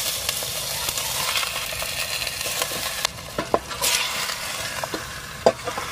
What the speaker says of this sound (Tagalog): Ayan, gisahin natin guys. Lagyan natin yung ating pork.